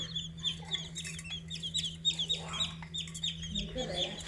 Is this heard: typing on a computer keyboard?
no